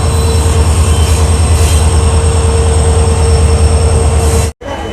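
A passenger train hauled by a diesel locomotive rolls between Mangaluru Central and Subramanya Road, a loud steady roar of wheels and engine with a sustained squealing tone, broken by a sudden brief drop near the end.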